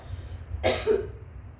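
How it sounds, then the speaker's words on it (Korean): A single sharp cough, fairly close, rises out of a quiet low hum and fades quickly. "요걸 틀면 또 기침이 나와."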